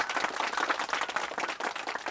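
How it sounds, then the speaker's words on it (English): Audience applause at a medical lunch-and-learn conference on liver disease, a dense, steady patter of many hands clapping throughout, fairly close and without speech. "Can we give him a big round of applause?"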